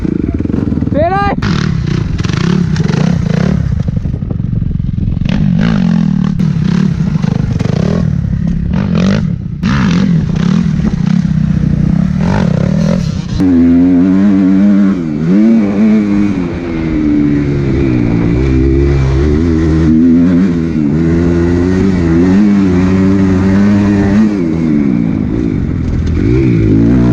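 A Yamaha YZ125 two-stroke dirt bike ridden by a kid, its engine loud and close throughout with shifting revs, wind-buffeted noise and voices talking over it.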